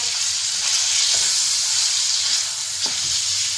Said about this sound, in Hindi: अब इसकी अच्छे से भुनाई करते हैं।